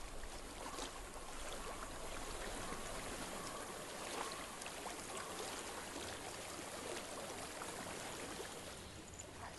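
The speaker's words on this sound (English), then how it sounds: "I hear water." Stream water flows in Hellblade: Senua's Sacrifice, a soft continuous babble and trickle that stays faint and even throughout, with no voices over it.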